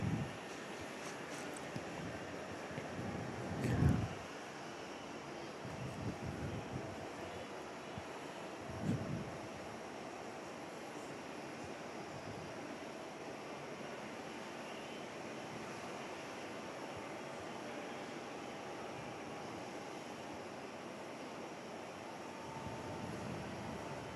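A new airliner in the Velocity fleet, recently delivered, heard while plane spotting at Perth airport: a faint, steady jet engine roar with light wind noise throughout, a few brief bumps early on.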